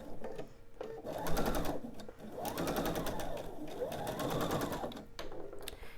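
A sewing machine pieces quilt diamonds in a close, continuous run, its rapid needle rhythm swelling and easing in three long passes with short stops between them.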